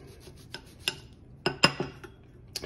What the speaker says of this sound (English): I'm gonna grate it fresh.